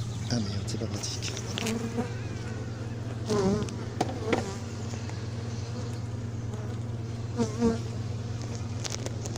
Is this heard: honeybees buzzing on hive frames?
yes